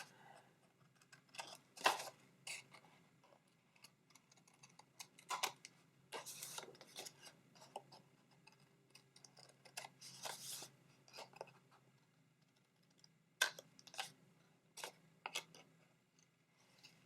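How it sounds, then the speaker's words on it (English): Scissors snip through paper in a series of faint, close, irregular cuts, trimming curved edges on a small handmade envelope, each snip a short crisp bite separated by quiet pauses. "Just taking my scissors and just kind of curving it off."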